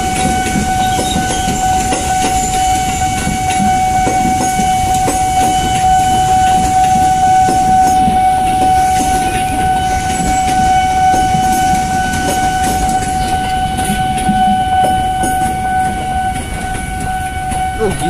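A steady rumble of a diesel train passing close by on a railway in Indonesia, with a sustained high tonal whine and constant rolling noise throughout.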